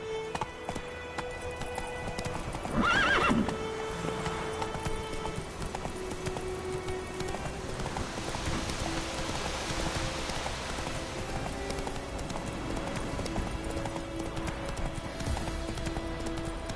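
Roach, the horse in The Witcher, gallops with a steady clip-clop of hooves over a soft hiss of rain, a brief whinny and rider's shout early on, under game music.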